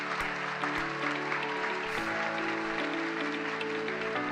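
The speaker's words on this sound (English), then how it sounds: "Clapping." Applause at an award ceremony as winners are named, a steady wash of clapping throughout with a sustained musical tone running underneath.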